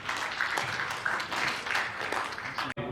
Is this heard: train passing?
no